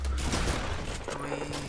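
Rapid gunfire bursts from a video game, sustained and loud across the whole moment, with players' voices briefly audible beneath it.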